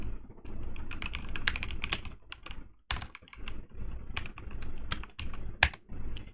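Fast, irregular typing of code on a computer keyboard, close and fairly loud, with clustered keystrokes and brief pauses.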